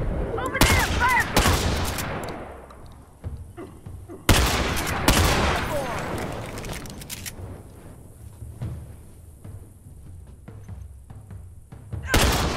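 Sustained gunfire crackles in dense, loud bursts of rapid shots, breaking off briefly before a second heavy volley and tapering into scattered fainter reports, with a last burst at the end.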